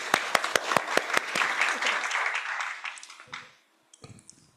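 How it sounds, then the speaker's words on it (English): Audience applause at a global symposium on civil registration and gender: a few sharp, distinct claps lead into a brief burst of clapping that fades out within about three seconds, leaving near silence with faint room noise. "Another clap for the Kingdom of Lesotho."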